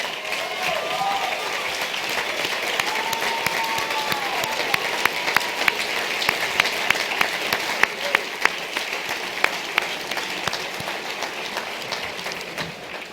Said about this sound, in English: I'd like to ask you to stand up and give this man a round of applause.